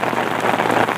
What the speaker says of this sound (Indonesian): Mantap hujan guys.